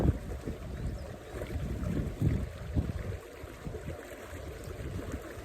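Waterfall on an estuary, a soft, steady rush of falling water heard at a distance, faint and unbroken, with gentle fluctuations and no voices.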